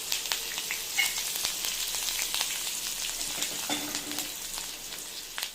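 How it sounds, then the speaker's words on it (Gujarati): Finely chopped green chillies hit hot oil in a mustard seed tempering with asafoetida and curry leaves, giving a steady, bright sizzle with crackling pops throughout and no talk. "અને ઝીણા સમારેલા લીલા મરચાં એડ કરીશું."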